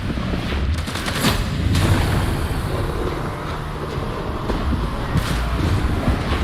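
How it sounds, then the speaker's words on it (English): Loud, dense gunfire in a shooter game, continuous rattling bursts with a few sharper reports over a roaring battle backdrop, nearly no talking. "Stop shooting me!"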